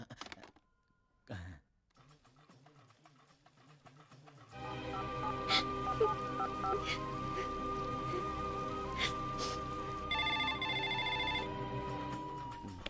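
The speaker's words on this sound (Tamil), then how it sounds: "அந்த ஃபோன் எடு." A telephone rings in an office during a Tamil film scene, its electronic tone repeating steadily over a busy background of hum and clatter, with a brief sound burst before it.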